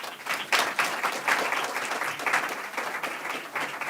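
A Capitol Hill event audience gives sustained applause, dense overlapping claps rising and falling steadily across the room for several seconds, with no speech.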